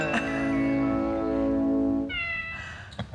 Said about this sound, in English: Somebody stepped on a cat.